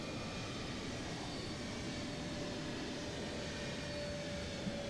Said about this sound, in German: Nase hochgezogen, Flugzeug abgefangen, über der Piste entlang geflogen und Touchdown.